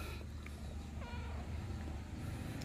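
Faint cat meows that are hard to make out, a few short cries over a steady low rumble of background noise.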